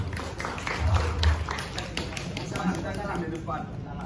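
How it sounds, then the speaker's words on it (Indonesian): An audience at an ecotourism talk show applauds for a guest with a steady patter of many hands clapping, while voices talk over the applause. "Tepuk tangan yang meriah untuk Mas Ijang"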